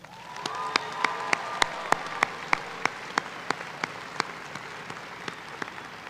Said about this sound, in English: Please join me in another round of applause to honor the incredible dedication of the class of